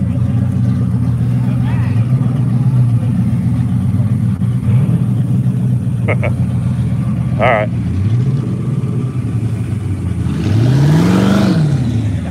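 A turbocharged monster Trans Am rumbles loudly at a Las Vegas cars-and-coffee meet. Several rising and falling revs swell over a constant heavy drone, and a voice speaks briefly.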